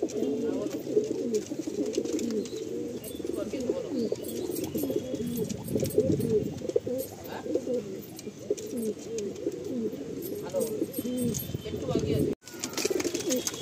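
Pigeons offered for sale coo steadily and busily at close range, with occasional wing flaps, while someone talks over them throughout.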